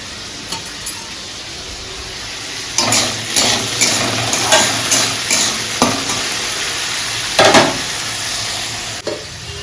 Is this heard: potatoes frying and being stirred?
yes